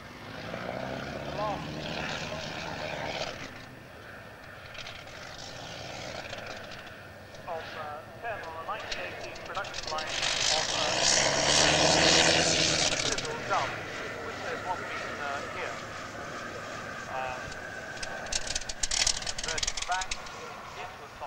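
A de Havilland Tiger Moth biplane at a vintage aircraft rally lands in a three-point touchdown, its propeller engine droning and swelling to a louder pass midway, with people talking throughout.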